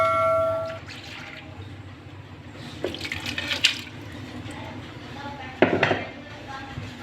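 Lentils (dal) being rinsed with water in a cooking pot, with clinking of the metal pot and splashing water coming in short bursts, a few louder knocks and sloshes standing out near the listener.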